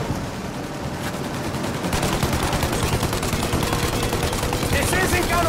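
Rapid automatic gunfire rattles continuously and loudly in a Mafia Definitive Edition shootout aimed at a plane, with engine roar underneath.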